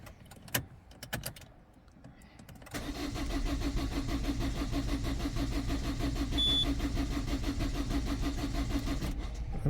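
A Citroen/Peugeot diesel engine cranks briefly and catches around the third second, then settles into a steady, loud, close idle with a low rumbling drone and faint clatter.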